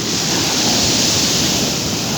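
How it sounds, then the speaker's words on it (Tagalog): Strong sea waves crash at a coastal resort, a loud, unbroken roar of surf that fills the whole moment without letting up, close and dense, with no voices over it. "Grabe lakas ang alon."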